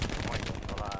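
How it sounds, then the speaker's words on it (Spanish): Rapid bursts of machine gun fire in the video game Hell Let Loose crackle in quick succession, dense and close, shots cracking through trees, with a faint voice underneath. "cómo crujen los tiros en los árboles"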